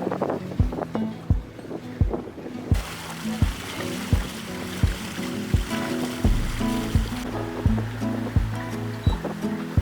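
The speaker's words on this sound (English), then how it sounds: "It still feels like a little wind." Wind and water aboard a sailboat on the Gulf coast of Florida in light air, a steady close rush of wind with repeated rhythmic knocks and slaps as the hull moves, no talk.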